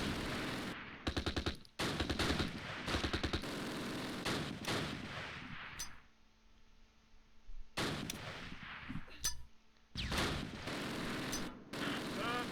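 Machine gun fire in a Close Combat Last Stand Arnhem battle at Valkenswaard, 1944: rapid rattling bursts repeat loudly, broken by a quieter stretch of distant battle noise before the firing resumes.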